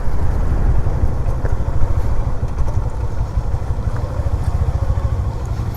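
Motorcycles idle and rumble in a parking area near a coastal beach in Pakistan, a steady close engine drone that holds its level with small fluctuations and no talk over it.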